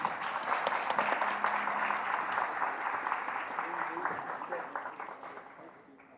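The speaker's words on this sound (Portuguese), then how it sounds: "eu peço, claro, uma salva de palmas para todos" An audience at a business summit opening applauds everyone, a broad, moderately loud roll of clapping that slowly fades out, with voices beneath it.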